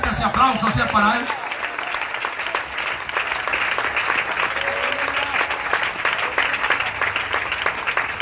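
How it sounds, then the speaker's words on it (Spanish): Sustained, loud applause from a congregation at an evangelistic church campaign service, steady clapping filling the room after a brief voice at the start. "dele fuerte ese aplauso si es para Él"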